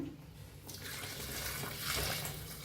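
Hot water pours into a pan of roasted chicken masala with a gushing, bubbling rush that starts abruptly and continues steadily, close by.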